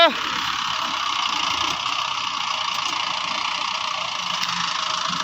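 A tractor engine idling steadily on a farm, a continuous mid-pitched mechanical drone that runs evenly from start to finish.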